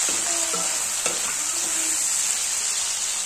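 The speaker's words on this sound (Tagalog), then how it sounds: "At hahaluin lang natin. Lutuin natin ng konti itong patatas." Potatoes fry in a pan with a steady, even sizzle, broken by a few soft spatula scrapes and knocks as they are stirred.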